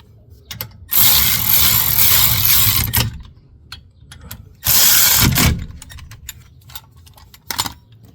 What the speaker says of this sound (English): then we can switch to our ratchet to speed up the process